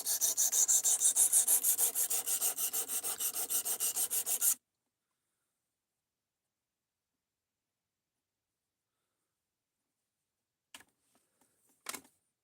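A Demko AD 20.5 knife edge being sharpened: a close, rhythmic rasping scrape of repeated strokes for about four seconds, then silence broken by a couple of faint clicks.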